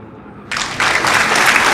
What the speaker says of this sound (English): little bit of applause for you there